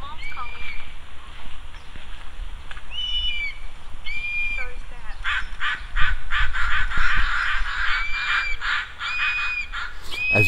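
Several crows calling near a hawk outdoors, repeated harsh caws in short bursts at moderate distance, scattered across the clip over a low background rumble.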